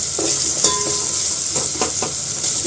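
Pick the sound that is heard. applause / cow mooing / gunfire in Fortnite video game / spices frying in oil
spices frying in oil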